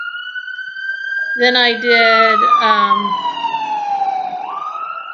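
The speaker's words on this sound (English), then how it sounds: "siren go by." An emergency vehicle siren sweeps past, its wailing tone rising loud and then falling in pitch as it moves away, with a person speaking briefly over it.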